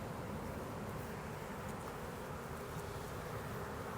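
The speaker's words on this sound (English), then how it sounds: "it's just like a lot of bees" Honey bees swarm around a hive being set on a base, a steady, dense buzzing hum close by that holds at an even level throughout.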